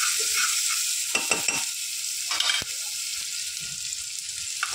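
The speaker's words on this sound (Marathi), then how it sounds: "आता हा कांदा गुलाबी कलर येईपर्यंत आपण परतून घेतोय" Onion sautéing in ghee, a steady broadband sizzle running throughout with a few brief stirring scrapes near the middle, no talk.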